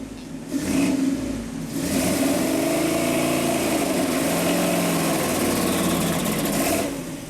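A Ford 460 V8 in a junkyard project car runs lean, starving for fuel: a loud rough idle that swells into a sustained revving drone, then holds steady before easing off.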